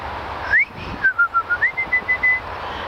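A pet bird whistles a run of clear, repeated chirping notes, rising then steady, close and fairly loud over a low background murmur.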